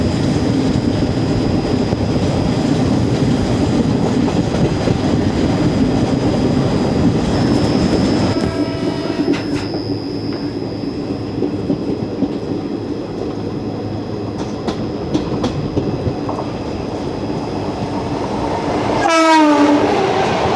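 Sabari Express train rumbles past with a continuous loud clatter of wheels, a long horn blast near the middle, and a sharp squeal before the noise fades.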